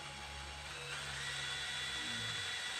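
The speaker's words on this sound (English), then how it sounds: "this really isn't a drill bit that I'm using at the moment. This is it's like a Dremel part" A Dremel rotary tool runs at a steady high-pitched whine under a low constant hum, continuous and fairly faint over a few seconds with no talking.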